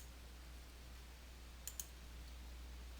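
Two quick mouse clicks close together during Photoshop Elements 2021 image filtering, sharp and faint over a steady low hum, with no talk.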